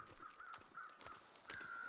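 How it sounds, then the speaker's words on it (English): Crows cawing in the survival video game The Long Dark, several harsh caws at a steady pace with one louder, closer call near the end over a faint outdoor ambience. "listen to the sound of those crows and recognize how that sounds"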